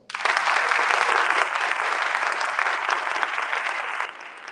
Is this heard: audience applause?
yes